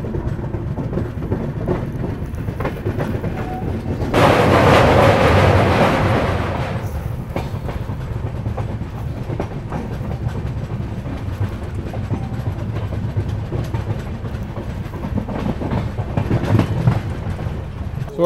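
Passenger train running on rails through fog en route to Amritsar, a continuous rumbling ride with clickety-clack from the wheels and a louder roaring burst partway through, heard from on board.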